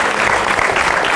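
Dense, loud applause from a campus audience at a student contest, a sustained burst of many hands clapping at once.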